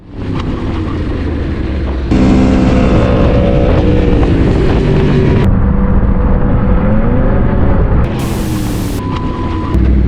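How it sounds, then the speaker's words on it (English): Motorcycles cruising along a tight mountain road, a steady loud engine drone with wind buffeting the microphone, rising and shifting in pitch as the bikes accelerate through corners, with no talk. "a few bikers cruising through the mountains when suddenly, one rider loses it all on a tight corner"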